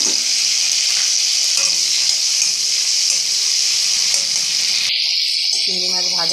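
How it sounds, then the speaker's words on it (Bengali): Shrimp fry in hot oil in a wok, giving a loud, continuous close-up sizzle with faint crackles; the hiss changes character abruptly near the end as the pan is stirred. No one speaks. "এবার চিংড়ি মাছটা ভেজে তুলে নিচ্ছি।"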